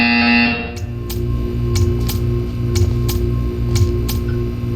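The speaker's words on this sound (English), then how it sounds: "You will hear a buzzer. When you hear the buzzer, stare at the art." A steady electronic buzzer drones loudly in the video game Portal 2, a sustained low tone with regular ticking pulses repeating about every half second after a brief opening tone.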